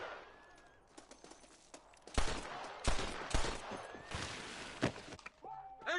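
Gunfire in the video game Red Dead Redemption: a burst of several sharp, cracking shots in quick succession, with scattered impacts and a distant voice-like tone near the end.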